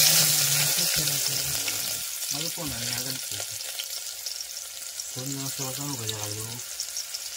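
Onion frying in a pan at a night camp while cooking crabs gives a loud steady sizzle, with bursts of voices talking over it at intervals.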